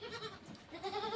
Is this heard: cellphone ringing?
no